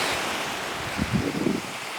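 Rough sea waves washing and rolling at İğneada, Kırklareli, Turkey, with steady wind noise buffeting the microphone and a brief louder surge of water in the middle.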